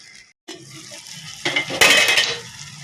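Indian hog plum sweet pickle stirred as it cooks in a pan, with a spoon scraping and clinking against the metal over a soft simmering sizzle, growing louder toward the middle, close and without speech.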